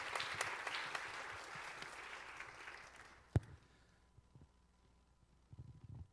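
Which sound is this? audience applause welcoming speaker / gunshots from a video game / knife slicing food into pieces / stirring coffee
audience applause welcoming speaker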